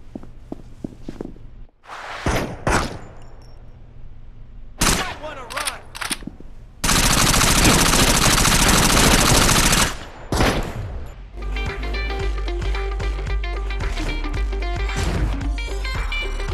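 Gunfire in the crime video game Gangster 4: scattered loud single shots, then a sustained burst of machine-gun fire lasting a few seconds, followed by clattering impacts and game music with voices.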